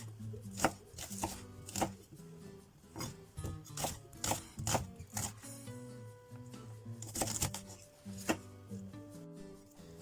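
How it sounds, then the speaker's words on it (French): A knife chops through a large and a small onion on a board, with quick irregular cuts close by over soft background music. "je vais venir découper mon oignon et demi"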